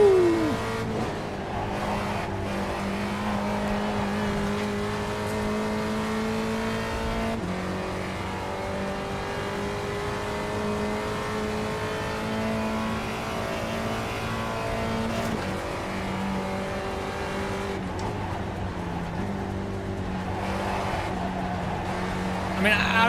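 A damaged race car engine in a sim racing video game drones with sustained harmonic tones. It shifts pitch at intervals as the car accelerates and changes gear, running continuously at moderate volume.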